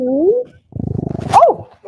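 A French bulldog puppy, eleven months old, gives a short rumbling growl up close, preceded by a brief vocal whine or voice and ending in a higher yelp-like sound, with a pause in between.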